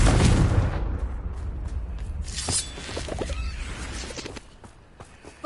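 Confringo fire spell cast in the video game Hogwarts Legacy: a loud opening whoosh and blast that fades into scattered crackling impacts and thuds, tapering off toward the end.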